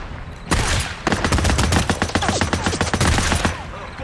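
Sustained machine gun fire in the video game Days Gone, a dense rapid rattle of evenly spaced shots lasting about three seconds, loud and close.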